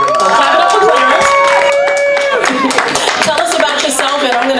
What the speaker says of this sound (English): Clap it up for Clarence.